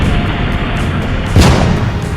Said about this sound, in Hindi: बीच में इस भयंकर दबाव के कारण एक विशाल विस्फोट हुआ, और इसी विस्फोट के कारण हमारे सूर्य का जन्म हुआ।